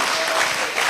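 A summit audience at UHAS claps in a dense, steady burst of applause, close and fairly loud, with no voices standing out.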